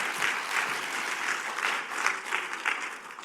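At a government keynote, the audience claps steadily for about three seconds, a full, even patter of many hands at moderate loudness with no speech over it.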